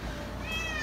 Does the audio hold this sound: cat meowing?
yes